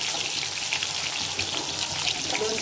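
Chicken Kentucky-style fry pieces sizzling in oil in a pan on a gas stove, a steady dense crackle heard close and alone.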